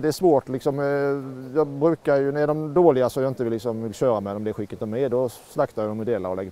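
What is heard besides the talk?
No distinct noise like a dog, phone or traffic.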